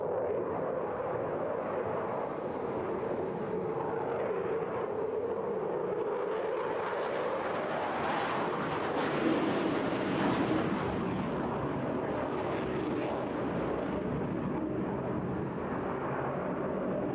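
A Eurofighter Typhoon with twin Eurojet EJ200 reheated turbofans at an air show roars steadily overhead, a loud continuous jet rumble that swells and shifts in pitch as it passes.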